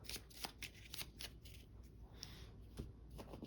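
Gloomhaven board game cards shuffled by hand in quick, papery riffles and flicks, a steady run of crisp snaps at close range with no talking.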